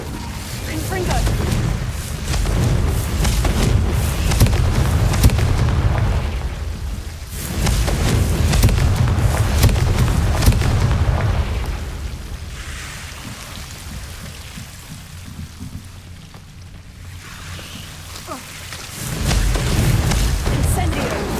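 Repeated Confringo fire spells detonating in Hogwarts Legacy, heavy booming blasts with rumbling decay arriving in several bursts, loud and close, with quieter gaps between volleys.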